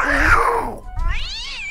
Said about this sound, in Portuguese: É o gatinho!